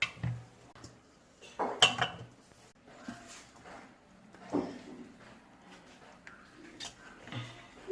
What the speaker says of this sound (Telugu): ఇప్పుడు ఈ పచ్చడిని బాక్స్లో స్టోర్ చేసుకుందాం.